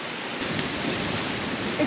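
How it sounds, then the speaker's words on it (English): Rain falls steadily on a desert island, a soft continuous hiss of drops that is fairly faint and close, with no voices. "Ooh, it's getting heavier."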